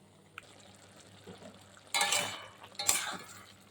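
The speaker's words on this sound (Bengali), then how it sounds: "জলটা দেওয়ার পরে একটু নেড়ে চেড়ে নিলাম" Spinach roots and taro stirred in a pan after a little water goes in, with two loud scraping, sloshing stirs in the second half over a quiet, faintly bubbling background.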